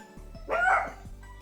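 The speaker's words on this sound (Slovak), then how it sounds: "Dobre, to bol môj pes, ospravedlňujem sa." A single dog barks once, close and fairly loud, a short bow-wow that rises out of a quiet room and fades quickly.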